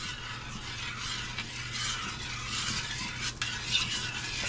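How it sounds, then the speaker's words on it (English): Pickle brine being stirred in a pot on the stove before it comes to a boil, a steady soft swishing and scraping that continues through the whole stretch without any talk. "brine and stir it up and bring it to a boil"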